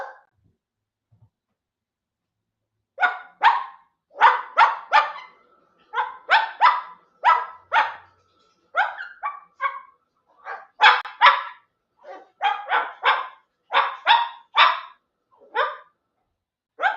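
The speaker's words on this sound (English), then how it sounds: "Are you barking for Tango?" A dog barks repeatedly in clustered bursts, loud and close, with short pauses between volleys and no talking over it.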